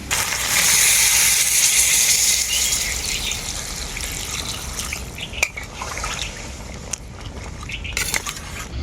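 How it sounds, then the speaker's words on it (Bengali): Water gushes steadily into a pot of browned mutton for cumin curry gravy with papaya, a bright rushing pour in the first few seconds that then tapers into lighter splashes and drips. "এখন ঝোলের জন্য পরিমাণ মতো জল দিয়ে দেবো মাংসের মধ্যে"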